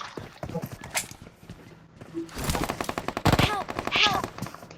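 Gunfire in PUBG Mobile, a mix of scattered single shots and short automatic bursts at moderate distance, mingled with clattering game sounds and faint voices.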